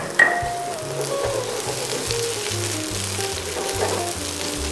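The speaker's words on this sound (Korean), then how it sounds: "팬이 어느 정도 달궈졌으면, 자, 색깔이 없는 양파부터 은은하게 볶아주시면 됩니다" Onions stir-fry in a hot pan for japchae with a steady, close sizzle. A few stirring clinks and scrapes break through near the start.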